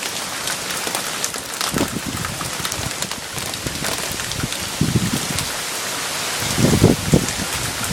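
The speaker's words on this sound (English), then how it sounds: "In Wildwood, when it rains, it rains." Heavy rain pours down in Wildwood, a constant loud hiss of drops on hard surfaces with a few heavier gusty surges and no voices.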